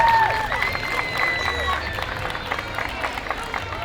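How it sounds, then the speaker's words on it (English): A parade crowd at a Baldwin Park anniversary parade applauds and cheers for a winning youth group, steady clapping and scattered whoops spreading across an outdoor street with a murmur of voices underneath. "Let's give them a big round of applause."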